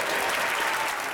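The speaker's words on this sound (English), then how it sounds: "Applause from the opposition bench is hardly any on the government side" Opposition-bench applause in the UK Parliament chamber: a dense, steady wash of clapping from many members, continuous and fairly loud throughout the short stretch.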